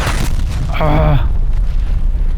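A grenade explosion in Call of Duty: Black Ops Cold War, a heavy boom with a lingering rumble, with a voice speaking over it partway through.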